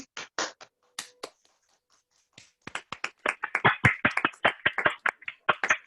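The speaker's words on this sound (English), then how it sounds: "Can we just have a round of applause for each of you?" Scattered claps from a few participants in an online meeting, a handful of sharp hits at first, then a pause, then a denser run of clapping that builds to the end. No talking.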